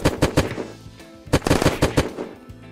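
Gunfire in the survival video game Unturned: loud, close bursts of rapid automatic shots in quick rhythmic volleys, separated by a short lull, no talking over them.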